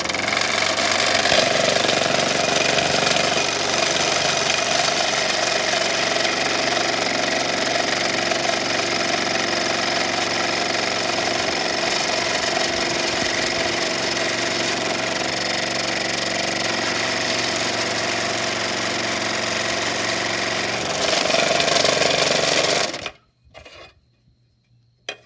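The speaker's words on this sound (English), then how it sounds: "you're going to use your jigsaw here and cut those out" A jigsaw cutting out new knife scales for a Buck 110 folding knife, a loud continuous buzzing rasp that runs unbroken for over twenty seconds before cutting off into near silence.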